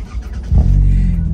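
A 1998 Toyota Celica convertible engine turns over and catches, the low rumble swelling suddenly and settling into a steady, close idle with no voices.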